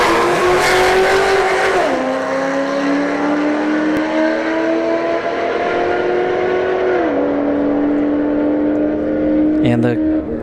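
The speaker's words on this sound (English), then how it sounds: "C6 in the right lane, Mini in the left lane." Street drag race at Bradenton Motorsports Park, a Corvette C6 against a Mini, engines screaming loud and close with two distinct upshift drops as the pitch steps down and climbs again, ending in a brief clatter.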